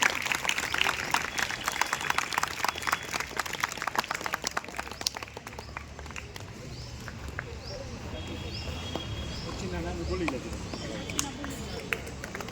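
Students are honoured at a school tinkering lab prize distribution while a crowd gives loud clapping, which thins out and fades into room noise and speech.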